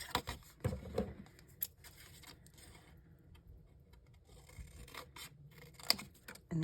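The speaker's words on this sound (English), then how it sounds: "So I think I'm just going to trim it" Scissors trimming a paper slide tag for a craft project, a few brief crisp snips and rustles over a quiet background.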